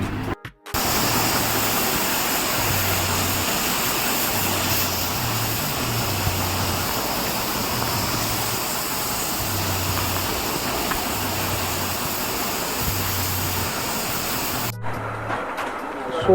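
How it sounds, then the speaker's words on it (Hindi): A KTM 390 Adventure motorcycle gets washed with a steady, loud water spray that hisses without break for about fifteen seconds. A faint low rhythmic thumping sits underneath, and the spray stops abruptly near the end. "वॉशिंग हो रही है।"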